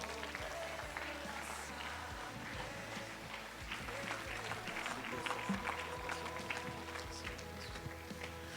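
A church congregation applauds at the close of a service, a fairly quiet, steady patter of many hands under a low background hum.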